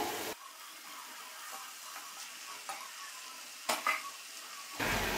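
Chicken vegetable spaghetti with chili and soy sauce fries in a pan, a soft, fairly faint sizzle broken by a few scraping stirs and clicks of the utensil against the pan.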